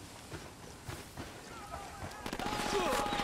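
Distant gunfire from a church in the video game Ghost Recon Wildlands, a faint scattered crackle of shots that thickens into rapid bursts near the end, with someone talking over it.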